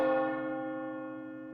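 A church bell is pulled by its rope, one loud stroke ringing out and its rich, humming tone slowly decaying alone with no voices.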